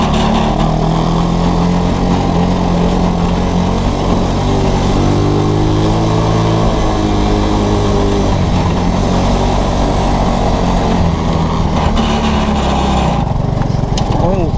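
Engine of an ATC 200S side-by-side go-kart running loud and close, rising and falling in pitch as it revs and shifts through gears, with a voice talking over it.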